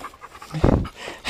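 A dog pants at a snowy ski area, quick soft breaths close by that swell into a louder burst of huffing midway through, with no talk over it.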